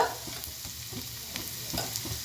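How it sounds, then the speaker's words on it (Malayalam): Spinach sautés in a pan with ground pepper and turmeric, giving a steady close sizzle with soft stirring scrapes throughout. "നന്നായിട്ടൊന്ന് വഴറ്റി കൊടുക്കുക"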